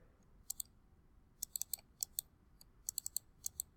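Sharp, quiet mouse clicks in quick pairs and short bursts, about fifteen in all, spread across a few seconds of near silence while setting up a scoreboard in PowerPoint.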